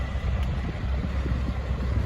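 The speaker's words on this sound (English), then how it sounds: "A little windy this morning, not sure why, but that's okay." Wind gusts buffet the microphone outdoors at the 2022 trucker convoy in Ottawa, a steady low rumble with uneven surges and no voices.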